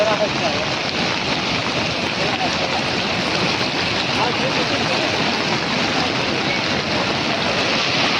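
Flood water rushes along the Malan river with its gates open, a loud, unbroken broadband roar that holds steady and close for the whole stretch.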